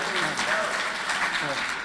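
Applause from a conference audience at an Angular developer talk, brief clapping from a crowd with some voices mixed in, moderately loud and fairly close.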